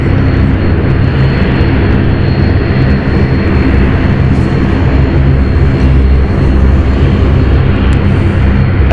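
A Luxair airliner on a Luxembourg flight at London City Airport, its jet engines producing a loud, sustained rumbling roar, close and continuous with no speech.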